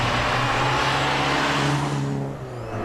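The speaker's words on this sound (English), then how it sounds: "Here we have a Triumph Spitfire." A Triumph Spitfire sports car drives past at close range in a convoy near Bathurst, its steady engine note loud and sustained before fading slightly as it moves away.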